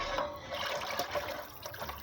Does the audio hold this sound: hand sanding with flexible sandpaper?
no